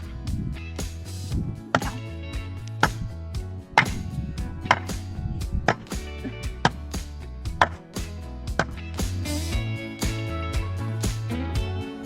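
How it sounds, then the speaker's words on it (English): Wood logs being chopped while held steady inside an old tire: repeated sharp chopping strikes land at an uneven rhythm, each a crisp thwack ringing over a low, droning background. "you can use them to hold wood logs while chopping"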